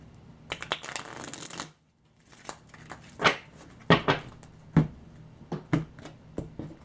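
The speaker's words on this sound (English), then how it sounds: "Let me shuffle one more time" Tarot cards are shuffled by hand in quick riffling bursts, a pause, then several sharp separate flicks and slaps, close and clear.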